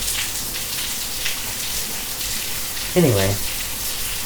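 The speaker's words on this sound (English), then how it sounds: "If you like rain coming down, then you'll like this one." Steady rain falls throughout, a dense even hiss close by, with a brief spoken word near the end.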